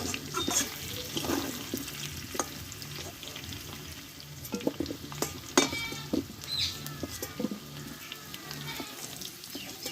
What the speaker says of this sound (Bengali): পুরোপুরি আমি ভালোভাবে কষে নিয়েছি আলুটাকে